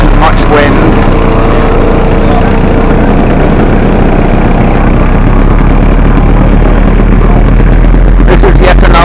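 A radio-controlled model seaplane engine, a Kingfisher or Seawind flown at a float-fly meet, drones steadily and loudly throughout, with broad rumbling noise and a faint voice under it.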